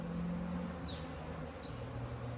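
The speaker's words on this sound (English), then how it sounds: "they're swarming over there. Don't know if you can hear the sound. It is quite scary, the sound." Swarming bees gather around a queen during a hive extraction, giving a steady low buzzing drone throughout with a faint higher insect whine passing briefly.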